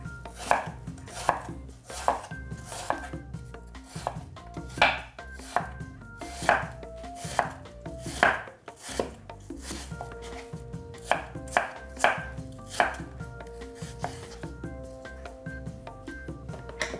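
A knife chops a peeled, seeded vegetable into sticks on a board for a toasted sandwich, with sharp, evenly spaced close chops repeating throughout.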